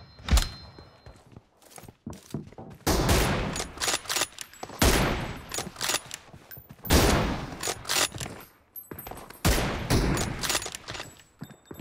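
Gunfire in the mobile battle-royale game PUBG Mobile, with repeated bursts of sharp automatic shots and single cracks. The shots come loud and close in irregular clusters separated by brief pauses.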